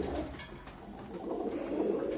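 Pigeons of various breeds kept by a pigeon fancier coo softly and repeatedly at close range, low throaty calls rolling one into another without any talk.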